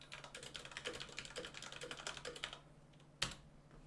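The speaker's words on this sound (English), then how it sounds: "Corsair Strafe Mark II, the keyboard that I use." Rapid typing on a Corsair Strafe Mark II mechanical keyboard during a computer strategy game, steady close key clatter that stops, then one sharp isolated keystroke.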